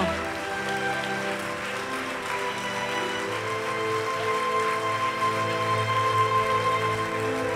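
Sustained applause from a film festival audience at La Baule: an even, rain-like wash of many hands clapping, holding steady throughout, with faint tonal music underneath.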